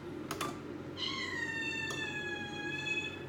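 A house cat gives one clear, drawn-out meow over soft background room noise, with a few quiet clicks just before and after it.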